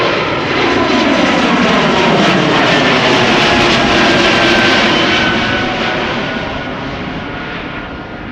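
Jet airliner close to the runway at Schiphol Airport, a loud broadband roar that stays strong, then slowly fades as it passes, with no voices.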